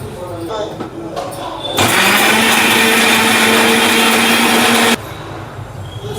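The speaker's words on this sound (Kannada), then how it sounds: "ಸ್ವಲ್ಪ ನೀರು ಹಾಕ್ಕೊಂಡು ರುಬ್ಬಿ ಒಗ್ಗರಣೆ ಮಾಡೋಣ." A kitchen mixer grinder blends masala ground with water and roasted cumin for a fish curry, a loud steady whir running about three seconds after a voice speaks, then cutting off abruptly.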